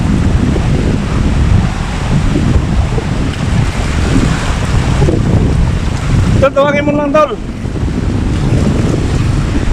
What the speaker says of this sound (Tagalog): masyadong malakas ang alon dito